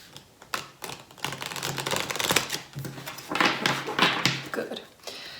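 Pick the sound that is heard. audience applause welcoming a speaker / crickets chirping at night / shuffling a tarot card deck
shuffling a tarot card deck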